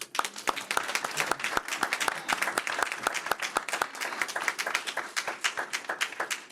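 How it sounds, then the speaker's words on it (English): Audience at a board meeting gives a round of applause, a dense stretch of many hands clapping with sharp individual claps standing out, steady and fairly close throughout. "give them a round of applause"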